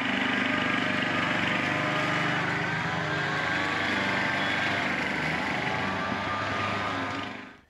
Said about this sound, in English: I think somebody's mowing a yard.